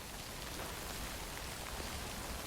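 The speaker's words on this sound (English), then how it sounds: "the rain turned his hair grey" Steady rain pours in the video game Death Stranding, a soft, even hiss of drops on surfaces with no breaks, fairly quiet and alone without voices.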